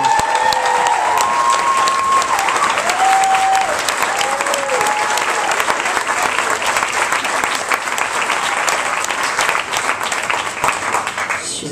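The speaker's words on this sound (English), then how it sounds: "You should give her a round of applause." A theatre audience applauds for a comedian's mother at a stand-up show, steady dense clapping that stays loud and even throughout with a few scattered whistles near the start.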